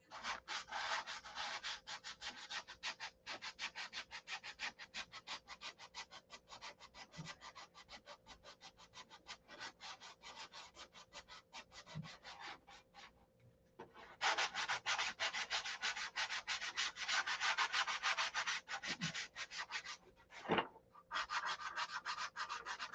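Hand sanding the coating on a SIG Magnum build, rapid back-and-forth rasping strokes in a steady rhythm, close and continuous with a few brief pauses and a louder stretch later.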